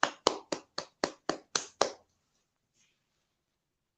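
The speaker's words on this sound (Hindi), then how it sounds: "दीदी के लिए एक बार जोरदार ताली से स्वागत कीजिए" Eight sharp hand claps in quick, even succession welcome a speaker at a meeting, then a brief fade into near silence.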